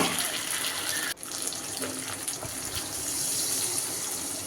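Water pours steadily into a pan of doi katla fish curry, a continuous splashing gush that briefly breaks about a second in and then carries on, close and fairly soft.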